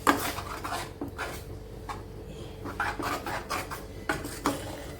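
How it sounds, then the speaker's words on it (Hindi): A spoon scrapes and clinks against a metal cooking pot while chickpea-greens saag is stirred and mixed, irregular rubbing strokes and light knocks at close range with no talking. "इसको हम इसमें मिक्स कर लेते हैं।"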